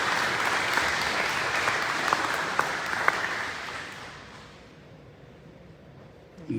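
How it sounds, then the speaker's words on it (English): A roomful of attendees at a school district breakfast applauds warmly. The clapping is dense at first, then thins and fades toward the end. "we can give a round of applause for both of these as well"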